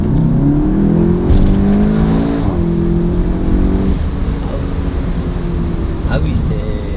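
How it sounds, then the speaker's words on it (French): A Volkswagen Golf 7 GTI TCR accelerates hard from inside the cabin, its engine note climbing steadily in pitch with a shift break, a loud sustained drone under people talking. "Première accélération les gars."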